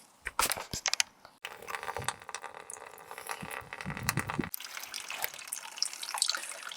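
Coolant water pours from a disconnected hose into a bowl under a Vauxhall Vectra C GSi, a steady splashing trickle with sharper drips at the start, close and moderately loud.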